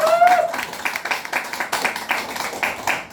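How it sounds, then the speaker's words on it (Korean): Audience members clapping hands during a health lecture on fasting and detox, a loose burst of claps that starts under a brief voice and carries on unevenly for a few seconds. "박수 치려면 시원하게 한번 치고 가자고"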